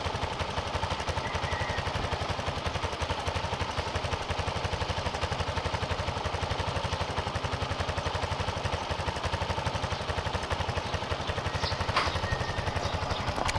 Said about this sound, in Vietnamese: Máy của nó hiện tại đang nổ máy luôn.